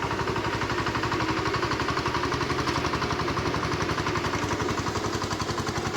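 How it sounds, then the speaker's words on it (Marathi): A tractor engine chugs steadily nearby while churning mud in a Konkan paddy field, its rapid, even thumping loud and constant throughout with no breaks. "ट्रॅक्टरच्या आवाजामुळे जास्त आवाज पण येणार नाही."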